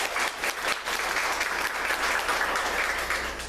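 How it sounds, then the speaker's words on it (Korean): Steady audience applause fills a theatre workshop room, a dense even patter of many hands clapping for several seconds without pause or talk. "박수 한번 부탁드리겠습니다."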